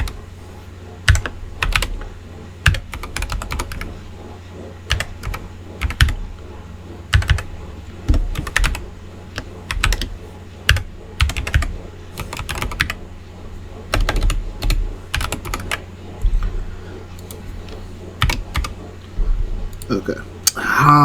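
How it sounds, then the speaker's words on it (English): Clattering keyboard typing in uneven bursts with pauses between, loud and close, the keys tapping sharply. "typing this is something that is getting a little bit annoying here"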